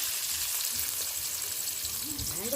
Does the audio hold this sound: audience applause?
no